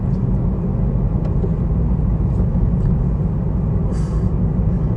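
Steady low rumble of a car driving through town, a constant engine and road drone with a brief faint higher hiss near the end.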